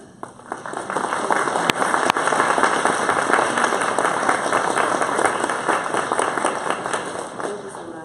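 Audience clapping for committee members at the ArkABA 2017 conference, a quick build into steady, dense applause that holds, then eases slightly, with a few voices mixed in.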